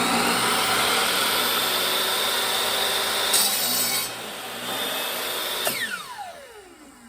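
A clamped saw cuts through wood to shape a cigar box guitar headstock, a steady close rasp of continuous sawing that ends in a ringing decay.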